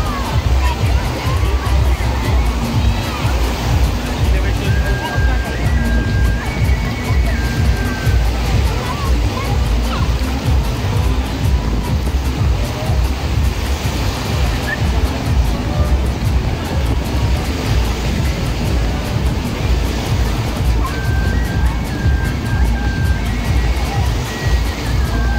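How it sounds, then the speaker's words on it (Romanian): Sea waves surge and wash onto the beach at Golden Sands, Bulgaria, a steady broadband roar throughout with faint crowd babble and voices mixed in underneath. "Valurile ca ieri?"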